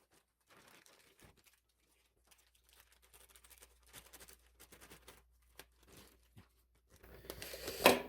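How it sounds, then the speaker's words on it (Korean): A folded plastic bag, set up for growing bean sprouts, is sliced across its top with a knife, giving soft crinkles and tearing rustles at close range that swell into a louder crunchy burst at the end. "접어서 위쪽 부분은 칼로 잘라 주도록 하겠습니다"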